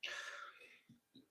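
A single sharp sneeze bursts out loudly at the start, trailing into a breathy hiss, followed by a couple of soft low thumps.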